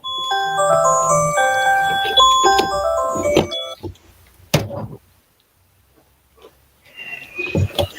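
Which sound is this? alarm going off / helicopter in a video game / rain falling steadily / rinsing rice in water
alarm going off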